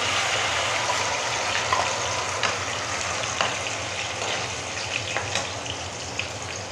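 Steady sizzling and crackling of an onion, garlic, ginger, green chilli and cumin paste frying in hot oil, continuous and close, with occasional sharper pops.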